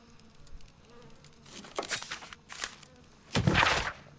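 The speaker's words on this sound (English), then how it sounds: "try to avoid all these bees" Bees buzz in the Sherlock Holmes Crimes & Punishments video game, a faint drone rising into a few louder swells and one strong close pass near the end, with no talking.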